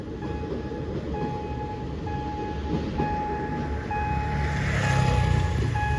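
A train hauling empty wagons rolls past the Sri Ayutthaya Road railway crossing, a steady rumbling roll with rail clatter, while a crossing bell or signal tone rings repeatedly throughout and the rumble swells louder near the end.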